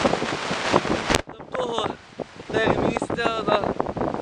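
Wind buffets the microphone in a loud, rough rush for about a second, then cuts off as someone talks over lighter gusts in a field sown with wheat.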